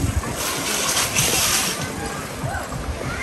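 Sea waves wash against the embankment along the Black Sea shore at Lazarevskoye, Sochi, on a June evening, a continuous close splashing and sloshing with surges of surf rising and falling.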